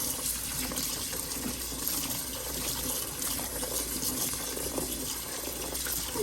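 Black cherries being rinsed in clean water, a steady close splashing and rushing of water with small clinks and sloshes running continuously.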